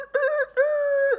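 A human voice imitates a rooster crowing during a children's storytelling performance, giving a loud, near, two-part call: a short opening burst followed by a long, sustained, tonal crow that drops away at the end.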